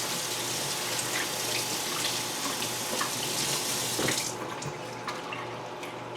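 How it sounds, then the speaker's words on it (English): Drained beans rinsed under a running kitchen tap, a steady close rush of water splashing into a sink that thins abruptly near the end to a softer trickle. "I'm going to take the beans and drain them. Give them a quick rinse."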